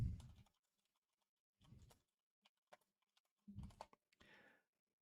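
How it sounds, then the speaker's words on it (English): Typing on a computer keyboard, short clusters of soft key clicks separated by pauses, close and quiet, with no talking. "I'm just typing in MTG card in"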